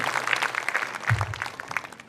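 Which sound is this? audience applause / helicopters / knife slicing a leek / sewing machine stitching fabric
audience applause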